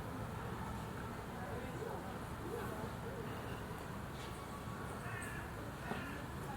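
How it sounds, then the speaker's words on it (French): Crows caw from a distance in a park cemetery, scattered calls rising over low steady outdoor background noise and a faint murmur of voice. "Et puis on entend les corbeaux et j'adore."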